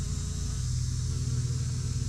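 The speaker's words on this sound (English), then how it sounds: "And look, I see the bees on it. I see honeybees all in here." Honeybees buzz on low ground cover plants outdoors, a steady, dense drone that holds at an even loudness for the whole stretch, with no voices.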